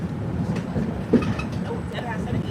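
A 1700-series train on the Ashmont–Mattapan line rumbles along at low pitch with soft rail clatter, a steady ride heard from on board, and a faint voice passes briefly underneath.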